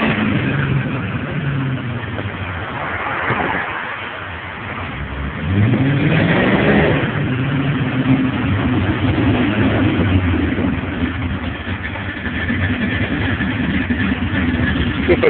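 A modified 2007 Ford Mustang Shelby GT with a full aftermarket exhaust idles with a deep, steady burble, then blips its throttle in a couple of rising revs before settling back to a rumbling idle.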